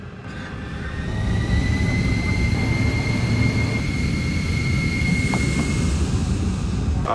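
A steady, loud airplane engine roar with a thin high whine riding on top, continuous throughout with no voices.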